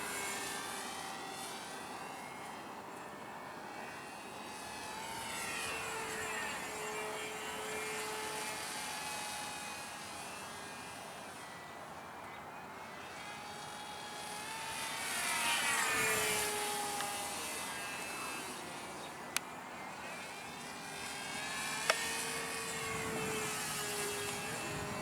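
A radio-controlled Boeing 2707-300 SST model airplane with added engines flies overhead, its whining engine tone rising and falling as it passes, swelling louder around the middle before easing off, with no talk.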